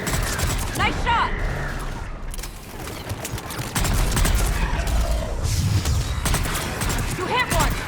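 Sustained gunfire in the sci-fi shooter Mass Effect 3 Legendary Edition, dense rapid shots and impacts throughout a firefight while characters shout over the battle.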